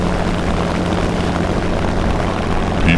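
A P-51 Mustang propeller aircraft roars overhead in a steady, loud engine drone that holds without pause, with no talking.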